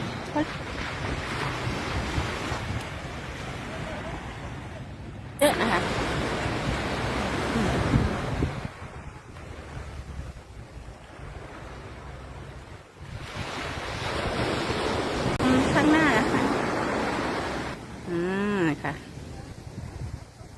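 Sea waves washing onto a busy beach, a steady broad surf roar with wind buffeting the microphone, surging louder in several swells over about twenty seconds, with faint voices of people nearby.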